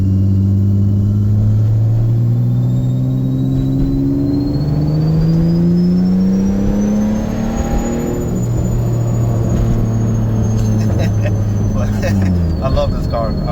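A Toyota Camry engine idles after an oil top-up. It is a steady, close hum whose tone slowly rises and then falls back, with someone talking over it the whole time.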